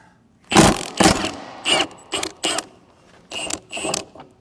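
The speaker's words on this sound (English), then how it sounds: "We'll pop this, I think this is called a gauge wheel. Pop this off." Metallic clanks, scrapes and knocks as a gauge wheel is popped off a Kinze planter, coming as a series of close, irregular bursts with short pauses and no talking.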